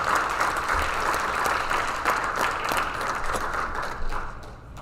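An audience at a 2023 academic awards ceremony applauds staff award winners, a steady, full wash of clapping from a sizable crowd that holds evenly and begins fading away in the last second.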